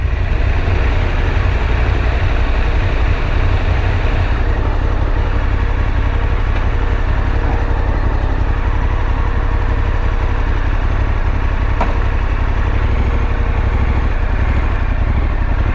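A 2024 KTM 1290 Super Adventure S motorcycle engine idles steadily and evenly close by, a continuous low rumble with no voices throughout.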